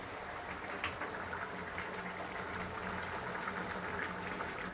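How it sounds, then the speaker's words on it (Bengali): Broiler chicken curry meat bubbling in a pot after garam masala is stirred in, a steady low simmering hiss with soft bubbling that runs evenly throughout, with no talking. "আমি আর 1 মিনিটের মতো মাংসটাকে ফুটিয়ে অফ করে দেব।"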